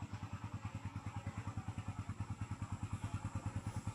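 A motorcycle, muddy after heavy rain, idles with a fast, even pulsing thump, steady and close throughout with no talk.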